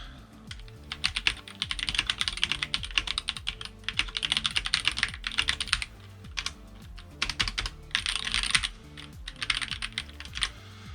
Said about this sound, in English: I want to hear how this keyboard is going to sound.